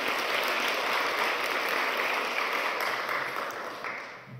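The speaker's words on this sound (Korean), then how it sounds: "우리 하나님 앞에 영광의 박수 돌리겠습니다." Church congregation at a Korean Protestant worship service claps together, a dense steady wash of applause that holds strong throughout and eases slightly toward the end, with no talking over it.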